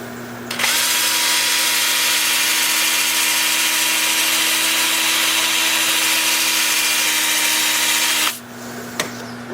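A small sycamore bowl spins on a wood lathe while being sanded, a steady loud whirring hum with an even abrasive hiss that holds for several seconds before the machine stops abruptly.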